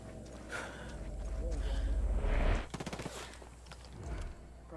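Heavy gunfire in the Ghost Recon video game: a rapid automatic burst crackles above a deep rumble and loud game noise, with several voices talking over the action.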